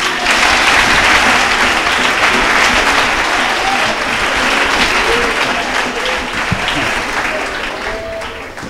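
A church congregation applauds steadily and loudly throughout, a dense sustained clapping crowd filling the whole span with a slight fade near the end, some voices faintly mixed in.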